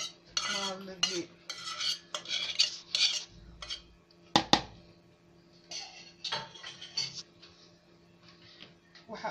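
A spoon stirs flour together with grated orange zest in a bowl, with a series of scraping, clinking strokes against the dish that come in irregular bursts and pauses, and someone speaks briefly in between.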